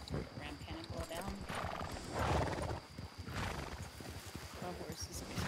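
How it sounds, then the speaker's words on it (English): Hooves clip-clop and a horse whinnies in a Western frontier roleplay video game, the steady hoofbeats running under constant talking voices, with fireworks mentioned nearby. "My horse is jumping."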